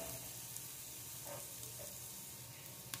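Onion frying in a hot pan gives a steady, faint broadband sizzle with a few soft pops, close by and without talk.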